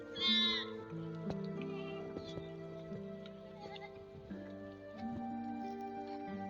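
A flock of sheep out on grassy pasture: one clear, wavering bleat rings out near the start, then a steady low rural background carries on with faint ticking and no other calls.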